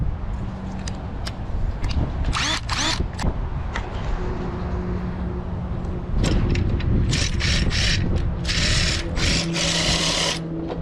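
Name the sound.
power driver adjusting the clamps on a MikroBench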